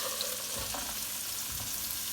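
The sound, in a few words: onions starting to fry in oil for paella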